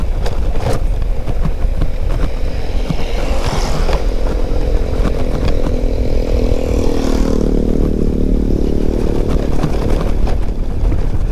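Motorcycle ridden along a rough, poorly surfaced road on the Lembang route near Bandung via Buni Wangi, its engine droning steadily and loud throughout with rattling and clatter from the bumpy ride.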